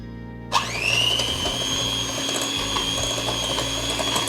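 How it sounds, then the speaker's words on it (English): An electric hand mixer whirs steadily as it beats vegan cookie batter with molasses sugar, starting abruptly and then holding a loud, continuous motor whine with faint rattling of the beaters, no talking. "using an electric mixer, we're just gonna mix it up until it's smooth."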